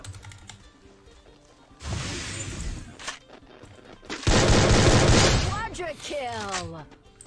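Rapid gunfire in the Free Fire video game with an M14 rifle, loud dense bursts of shots and a few booms mixed with keyboard clatter and a player talking over it.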